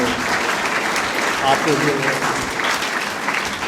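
Steady, dense applause from a crowd of cadets at a cadet college in Karachi, loud and continuous throughout, with a voice speaking over it.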